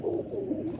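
A Teddy pigeon coos close by, a soft low throaty run of warbling notes lasting under a second, with no voices over it.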